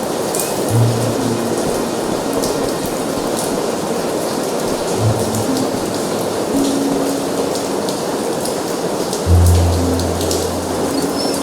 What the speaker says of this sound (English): I can hear the water rushing in and downwards now.